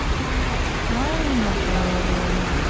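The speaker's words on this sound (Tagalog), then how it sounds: "Lakas ng ulan." Steady, dense rain hisses throughout in Baguio, with a faint voice rising and falling beneath the downpour.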